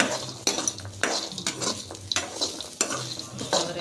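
Fresh grated coconut stirred in a pan for chutney, close scraping and clinking of a spoon against the pan in quick repeated strokes, with a faint sizzle underneath.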